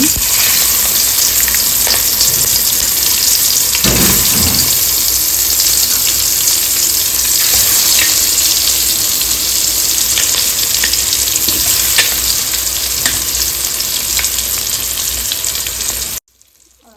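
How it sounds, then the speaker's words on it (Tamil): An egg fries in hot leftover vada oil, giving a loud, dense, unbroken sizzle with occasional crackles and a brief scrape before it cuts off abruptly. "நம்ம இதில் முட்டையை அப்படியே திருப்பி போட்டுக்கலாங்க."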